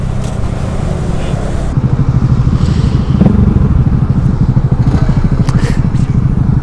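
A Honda Grom small motorcycle engine with no aftermarket exhaust putters with a rapid, rough, choppy thump, loud and close, its tone shifting as it revs.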